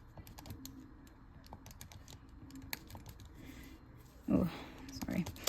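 Button presses on a graphing calculator as values are entered, a run of quick, light clicks at an uneven pace, close and faint, with soft talk and small handling noises around them.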